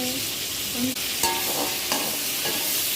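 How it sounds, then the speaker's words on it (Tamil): Onions and tomatoes sauté in a pan for a mango and coconut-milk fish curry, giving a steady, close broadband sizzle with a few soft stirring clicks throughout. "நல்லா வதக்குங்க தக்காளி போட்டு நல்லா வதக்குங்க"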